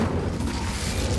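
An Incendio fire spell cast in Hogwarts Legacy gives a short, dense, roaring burst of flame, loud and close, lasting about a second.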